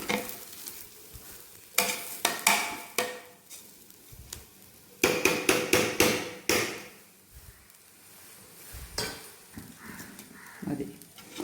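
Rice being stirred and roasted in an old-model pressure cooker for biryani, with bursts of rapid scraping and clattering strokes against the metal over a faint sizzle, close and loud, separated by quieter pauses.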